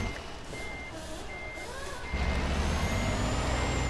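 A truck in Euro Truck Simulator 2 starts up: a few short electronic tones sound, then the engine catches about halfway through and settles into a steady, low, close idle rumble.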